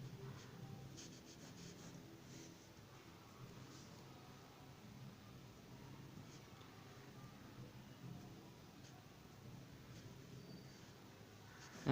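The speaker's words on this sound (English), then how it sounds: "I'm writing it here." A pen scratches and rubs across paper as a chart is drawn, soft and close, with steady strokes over a quiet hiss.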